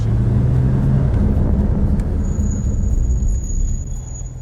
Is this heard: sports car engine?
yes